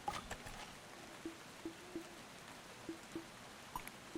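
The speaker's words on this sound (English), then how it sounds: "I know why the rain makes me feel sleepy." Soft rain ambience in the video game Garden Story, a quiet steady patter with scattered light drips and small plinks, faint and even with no voices.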